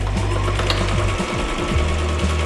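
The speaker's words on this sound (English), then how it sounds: "we are just top stitching in the middle all the way across" A sewing machine top stitching ribbon onto layers of tulle runs loud and close in a fast, steady needle rhythm, with a slight change in pace near the end.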